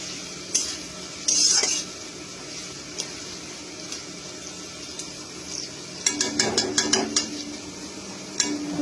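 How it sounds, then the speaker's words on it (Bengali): Onions fry in a generous amount of oil in a pan for a chicken dish, a soft sizzle broken by sporadic metal spoon scrapes and clinks, busier toward the end. "ভালো করে লাল করে পেঁয়াজগুলোকে ভেজে নিতে হবে।"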